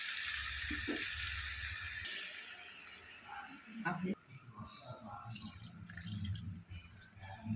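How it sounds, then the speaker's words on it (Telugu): Tamarind juice is poured into a pan of frying fish curry, with a sizzle and drip that settle into quieter bubbling while someone talks over it. "ఇప్పుడు చింతపులుసు పోస్తుంది"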